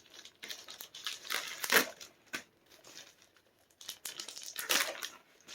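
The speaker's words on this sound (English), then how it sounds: "There's no tape on this here, so easy to just rip open." A padded bubble mailer package with no tape is torn open by hand, giving loud crinkling, ripping bursts in several separate pulls, close up and with no talking.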